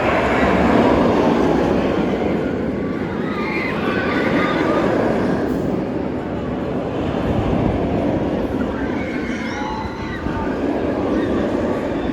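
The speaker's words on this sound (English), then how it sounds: "The train's going up the lift hill." Fury 325 roller coaster train at Carowinds climbing its lift hill, a continuous loud mechanical rumble and clatter with faint squeals heard up close and steady throughout.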